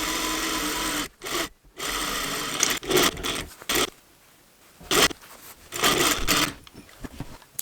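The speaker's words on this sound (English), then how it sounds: "Now I'm going to sew this bit to the front piece." A sewing machine stitching a waistband piece onto the front of a pair of pants, running in several short bursts of rapid mechanical whirring separated by pauses and quiet handling noise, close and steady, with no talking.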